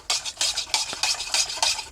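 Honey being stirred into pine needle tea with a spoon, quick rhythmic clinking and swishing strokes against the cup, about eight in under two seconds, close and crisp with no voices.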